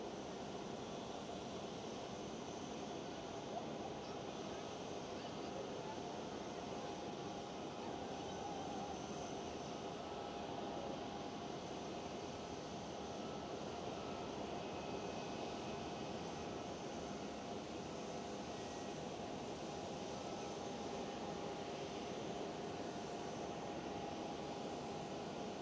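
A British Airways airliner at Amsterdam Schiphol airport gives off a steady, unbroken jet-engine rumble mixed with broad airport noise, moderately distant and constant throughout.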